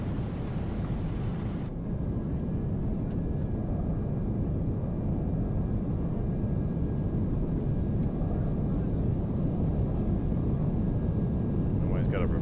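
MD-11 airliner engine spooling up during start in the X-Plane flight simulator, a steady low rumble and rising whine with a thin high tone, under rain-like noise, while a person talks over it.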